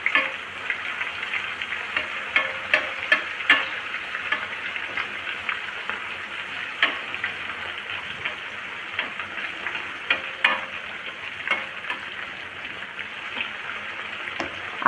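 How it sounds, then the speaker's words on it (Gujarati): Sliced onion frying in a generous amount of oil until golden brown for a blooming onion, a continuous close sizzle with scattered crackles and pops throughout. "હવે એકદમ ગોલ્ડન બ્રાઉન થાય ત્યાં સુધી આપણે ઓનિયનને તળવાની છે."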